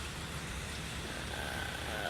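Rain falls outdoors in a steady, soft, broadband hiss, faint and continuous throughout with no clear voices.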